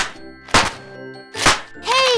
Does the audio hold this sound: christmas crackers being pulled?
yes